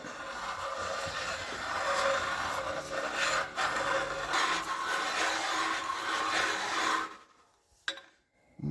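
A ridge reamer cuts the ring ridge from a cylinder bore of a 1958 Pontiac 261 inline six, giving a steady, continuous metallic scraping rasp for about seven seconds before stopping abruptly, followed by quiet and one brief scrape.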